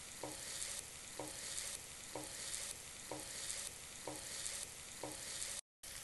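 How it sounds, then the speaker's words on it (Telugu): Cumin seeds fry in hot oil with a steady, fairly quiet hiss and crackle broken by regular soft clicks about once a second. The sound cuts out briefly near the end. "ఆయిల్ వేడొచ్చిందండి, ఇందులో 1 స్పూన్ జీలకర్ర వేసుకుందాం"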